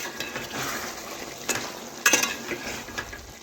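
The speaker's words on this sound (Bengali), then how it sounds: "আমি আবারও ওই একই রকমভাবে এইভাবে নাড়াচাড়া করে নিচ্ছি" Chicken and potatoes being stirred in a pot, a soft background sizzle broken by several scraping strokes and a metallic clink of the spoon.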